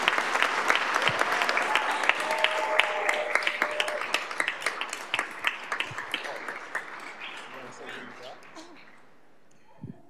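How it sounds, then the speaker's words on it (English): Audience applause at a school district governing board meeting, a dense wash of many hands clapping that holds steady for several seconds, then thins and fades toward the end, with some voices mixed in. "So give her a huge round of applause"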